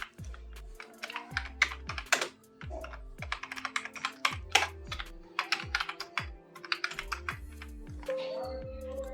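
Close, clear clicking of a computer keyboard as a heading is typed into an Excel spreadsheet, irregular bursts of keystrokes with short pauses, alone without talk.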